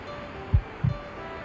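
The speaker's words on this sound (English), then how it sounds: "Why am I getting that heartbeat noise" A heartbeat sound effect from a fantasy role-playing game, two deep, muffled thumps in a quick lub-dub pair over a low hum.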